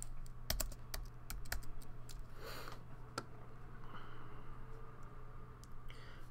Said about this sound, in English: Who else sucks at typing?